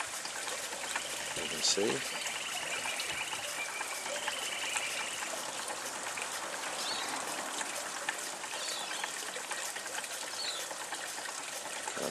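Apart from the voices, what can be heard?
Hayward Tyler hot air pumping engine pumping water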